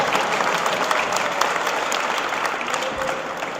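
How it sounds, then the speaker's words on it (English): Sustained audience applause at a music education advocacy press conference, dense steady clapping from a crowd lasting the whole stretch with no break. "how would you like the audience to applaud?"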